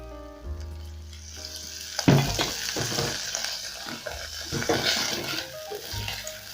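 Beef browning in cooking oil in a pot, a hissing sizzle with bursts of scraping and clattering as it is stirred, loudest in the middle, while a low steady hum runs underneath.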